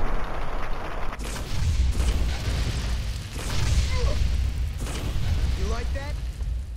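Flamer weapon in Fallout New Vegas roaring in bursts of fiery whooshing and crackle as it burns a cockroach, loud and close, with someone talking over it.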